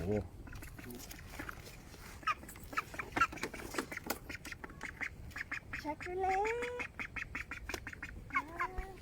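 Ducks brought by motorcycle quack in short nasal bursts, several calls scattered close by, while people talk over and between them.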